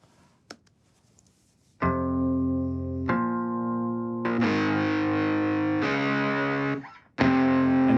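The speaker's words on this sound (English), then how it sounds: "the fuzz adds harmonic distortion" Sustained electric guitar chords through a fuzz pedal, thick and buzzy with heavy distortion, several held chords in a row after a brief quiet pick noise.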